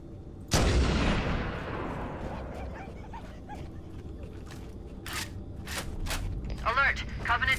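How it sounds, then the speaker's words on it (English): Heavy gunfire from mounted stationary guns in Halo: Combat Evolved starts with a loud, close blast and carries on as rattling fire and sharp impacts. A voice is heard partway through. "Those stationary guns are gonna tear us to pieces!"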